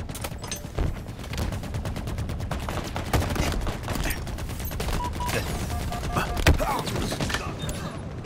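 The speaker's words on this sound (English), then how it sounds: "First sticky grenade of our Halo Infinite career." A sticky grenade blast in the Halo Infinite video game, heard amid dense rapid gunfire and heavy thumping booms from a busy multiplayer firefight, loud and continuous throughout.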